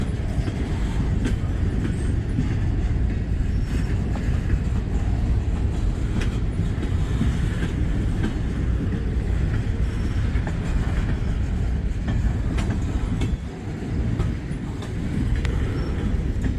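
Very long freight train of 660 axles rolling past at close range, a dense continuous rumble with clickety-clack wheel noise and occasional faint squeals, steady throughout.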